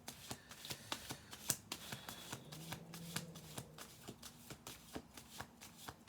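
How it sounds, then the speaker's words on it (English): A deck of tarot cards is shuffled by hand in a steady run of soft riffling flutters and light slaps, continuous and close, with no voices. "I'm just going to do a few shuffle throughs of this just to see if anything else comes out"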